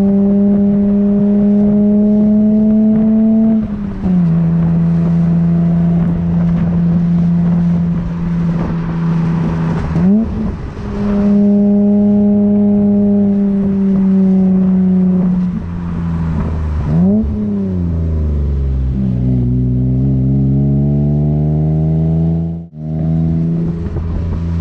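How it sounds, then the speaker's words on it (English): Exhaust of a BMW E30 Touring climbing Buttertubs Pass, a loud, steady engine drone held under load, with several gear changes and revs rising and dropping as the car works up the road. "We're going to stick a camera on the front, get some exhaust sound for you."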